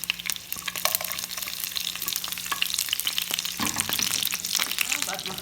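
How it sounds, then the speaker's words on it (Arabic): Mustard seeds, peanuts and curry leaves fry in hot oil for an Indian dosa filling, a dense crackling sizzle with scattered popping that grows louder near the end, close up with no voices. "بس نحمر الحين"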